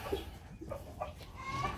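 Chickens give soft, close clucks in a few short calls over a steady low background.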